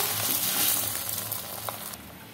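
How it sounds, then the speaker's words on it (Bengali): An egg omelette fries in a little oil, giving a continuous close, hissing sizzle that eases slightly toward the end, with no speech. "অল্প অল্প তেল দিয়ে ভাজতে হবে ডিমটা, বেশি তেল দেওয়া যাবে না"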